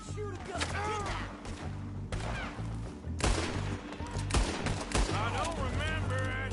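Gunfire in the Red Dead Redemption 2 western game, several loud, sharp shots scattered across a busy scene with voices talking throughout and whooshing effects between the bursts.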